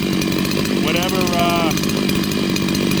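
Ported Stihl MS 660 chainsaw with a Max Flo muffler, freshly started and running, a loud, steady engine roar close by that rises briefly in pitch as it revs, with a voice heard faintly under it.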